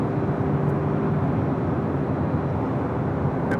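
Lufthansa airliner turning on the runway at Los Angeles airport, a steady, broad jet engine roar with a low hum, heard from a distance and continuous throughout, with no voices over it.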